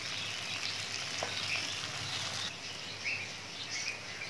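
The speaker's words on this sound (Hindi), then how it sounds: "भिंडी हमारी अच्छे से फ्राई हो गई है।" Okra (bhindi) frying in hot oil in a pan, a continuous crackling sizzle with fine popping, close and steady throughout.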